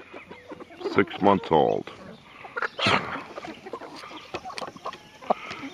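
A six-month-old young cockerel clucking in short bursts close by on a family farm, mixed with scattered bird calls, while a person talks over it.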